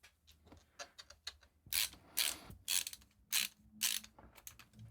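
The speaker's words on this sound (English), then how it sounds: "We're going to screw them onto the bars." A screwdriver drives small screws through IR LED mounts into light gun bars, making close ratcheting clicks and scraping turns in several short bursts with a steady faint hum underneath.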